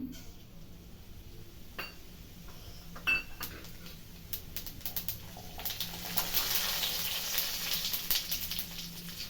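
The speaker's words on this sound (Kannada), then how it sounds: "ಒಂದೆರಡು ಸ್ಪೂನ್ ಎಣ್ಣೆ ಜೀರಿಗೆ ಹಾಕ್ತಾ ಇದ್ದೀನಿ" Cumin seeds dropped into a couple of spoons of hot oil in a pan, a steady soft sizzle rising and filling out over several seconds, with scattered clinks of utensils against the pan.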